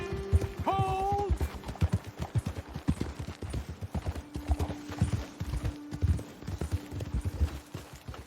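Horses' hooves clip-clop through rocky terrain in the Red Dead Redemption 2 video game, a steady run of close hoof beats with a brief whinny near the start and a faint low hum underneath.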